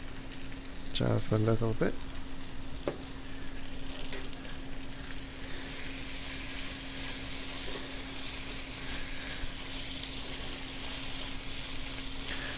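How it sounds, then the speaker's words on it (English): Asafetida, a small pinch, dropped into hot oil for a South Indian mixed vegetable stir fry, giving a steady, fairly loud sizzle that runs throughout, with a brief spoken remark early on. "And I'm going to add some Asafetida."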